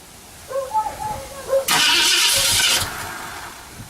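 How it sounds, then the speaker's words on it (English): A 1968 Ford Galaxie with its hood off cranks for a cold start at night, a loud harsh whir of starter and engine arriving abruptly after some talk and lasting about a second, then fading as voices continue. "Start it up. Pump the gas."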